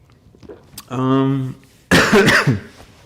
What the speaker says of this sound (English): I'm sure that's annoying, me coughing like that.